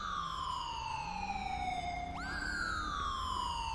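An ambulance siren in the video game GTA 5 wails steadily and loudly with a sweeping, sliding tone that jumps pitch partway through, sounding close over a low road rumble.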